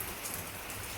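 Heavy rain pours steadily at a village cow farm in Odisha, a dense, even wash of drops hitting surfaces close by.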